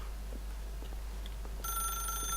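A telephone starts ringing in The Stanley Parable video game, a bright electronic bell tone entering abruptly near the end over a constant low hum, with no talk.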